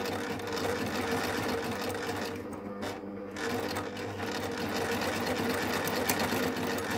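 Baby Lock Ovation serger running steadily as it overlocks beads onto a fabric edge with a bead-setting foot, a continuous close mechanical whir with a brief slowdown midway before resuming.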